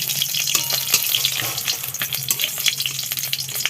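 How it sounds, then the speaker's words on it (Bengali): Raw potato papad frying in hot oil makes a dense, crackling, spitting sizzle, loud and close, continuous throughout with rapid pops and no voices. "খুব সুন্দর ভাজা হচ্ছে দেখো এই যে"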